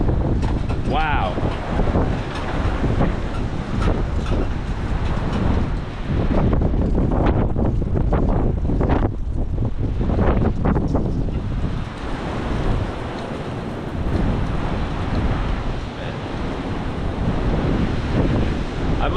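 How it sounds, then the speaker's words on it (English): Strong wind gusts in a big windstorm in the Ohio Valley blast across the microphone as a loud, continuous roar that surges and dips, with a voice talking faintly under the buffeting. "once again, it is really windy out here"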